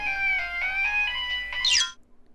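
A mobile phone ringtone plays a bright, melodic electronic tune for nearly two seconds, close and clear, then stops abruptly. No one speaks.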